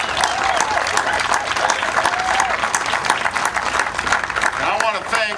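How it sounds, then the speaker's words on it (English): An audience at an Obama event marking the Recovery Act's 10,000th project launch breaks into steady, loud applause that carries on without a break, with dense clapping from a large crowd. "That's worth a big round of applause."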